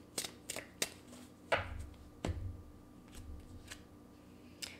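Sacred feminine message cards being shuffled close by, a few quick papery riffles and flicks spaced out over a quiet room with a low background hum.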